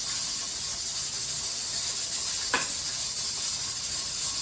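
A pressure canner holds turkey broth at pressure on a stove, giving off a steady, fairly faint steam hiss with one brief sharper puff as the weight rocks.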